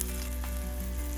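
Onions fry in a pan over an outdoor campfire in nature, a brief, dense and even sizzle heard close up, with no talking.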